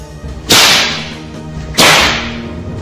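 Two sharp, loud whip cracks snap out alone, about a second apart, each with a bright burst and a decaying tail, as a sound effect in a Javanese martial-arts audio drama.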